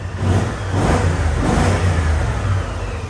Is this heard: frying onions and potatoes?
no